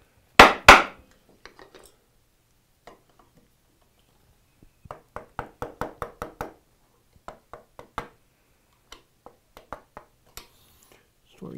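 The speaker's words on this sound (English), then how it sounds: "I'm going to chisel just a little more on this one" Wood is chiseled to shape a panel gauge, giving sharp mallet-like taps and knocks, two loud strikes first and then a quieter, irregular run of light blows, close by.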